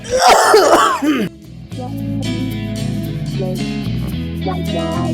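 A loud burst of coughing and throat clearing at the start, then a sustained music-like tonal sound continues beneath.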